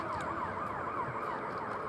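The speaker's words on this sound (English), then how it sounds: "I hear an ambulance or a police car" An ambulance siren passes at a distance, a faint wailing tone rising and falling in a steady repeating cycle over low background rumble, with no talking.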